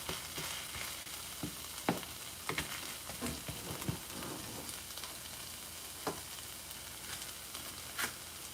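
Vegetables frying in a pan for a Mexican stir-fry, a steady close sizzle with occasional sharper pops and crackles throughout, no talking.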